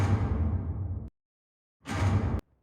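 A trailer hit built in sound design and drenched in 100% wet reverb plays twice as a dense, booming wash, each burst about a second long and cut off abruptly, with silence between.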